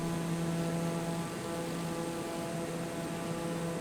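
A small aircraft flies over New York City, heard from the cabin as a constant, even engine drone with steady tones and no break.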